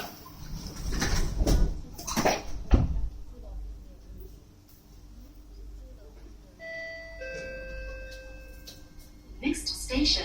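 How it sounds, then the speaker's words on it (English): SMRT Kawasaki C151A train doors closing, with loud thumps and rumbles early on, then a series of steady electronic warning tones near the end, under a spoken announcement. "Doors are closing."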